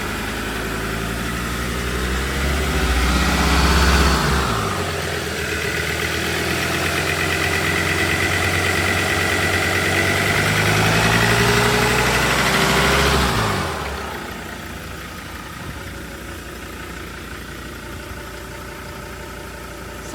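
A diesel car engine idles with a steady, loud, slightly knocking rumble, which eases and quiets noticeably toward the end while still running.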